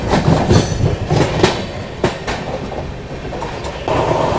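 The Mahabodhi Express runs loud and close on rails between New Delhi and Gaya, with a steady rumble, rhythmic clickety-clack wheel beats and a few sharper metallic knocks, no voices.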